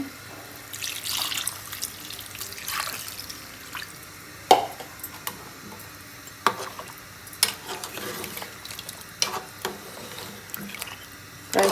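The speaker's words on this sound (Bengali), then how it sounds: "এখন আমি পানিটা দিয়ে" Water is poured from a mug into a pot of simmering beef curry, giving intermittent splashes and trickling with occasional sharp clinks against the pot.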